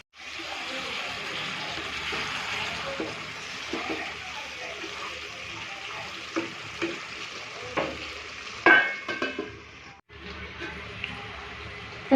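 Mutton curry sautés in a pan with a constant hissing sizzle, interrupted by scattered stirring scrapes and a brief louder clatter near the end.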